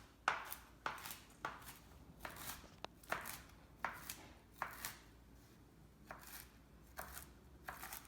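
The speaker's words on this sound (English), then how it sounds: "just go ahead and give them a little chop" Broccoli being chopped with a knife on a cutting board, a series of about a dozen crisp, close knocks in an uneven rhythm, quiet and with no talking.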